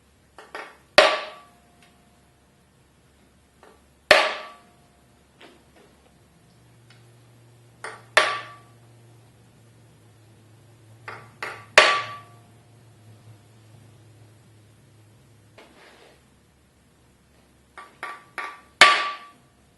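Number stamps are hammered into parts of a 5.7 Vortec 350 engine during a rebuild, each cylinder marked one through eight. Sharp metallic hammer strikes land in short clusters of one to three, spaced a few seconds apart, close and loud over a quiet background.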